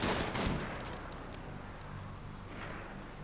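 Sniper gunfire in the colony game RimWorld: a loud crack at the start that fades into a diffuse rumbling wash, with a few faint sharp reports following.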